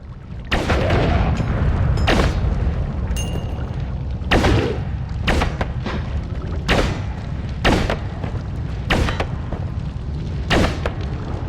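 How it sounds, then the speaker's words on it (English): Explosions from a big slow-exploding explosive in the video game Noita: a series of loud booming thuds spaced irregularly about a second apart over a continuous low rumble of game noise. "Oh, it's a slow exploding big explosive."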